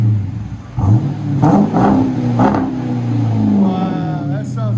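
A car engine revs repeatedly through an aftermarket muffler, close and loud, with sharp rising bursts settling into a steady rumble between blips; a brief voice is heard near the end.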